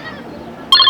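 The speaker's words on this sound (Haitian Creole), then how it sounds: "C'est le téléphone qui a sonné là" Telephone ringing, a bright electronic ring that cuts in abruptly near the end after a stretch of quiet room murmur.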